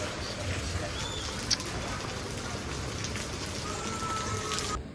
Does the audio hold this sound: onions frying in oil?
no